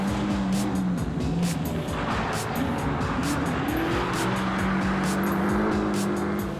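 A 1965 Mustang rally car works through cones at Dutton Rally Victoria, its engine roaring loud and close with rising and falling revs and bursts of tire squeal, and crowd noise behind it.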